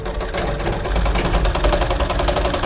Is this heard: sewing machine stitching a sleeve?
yes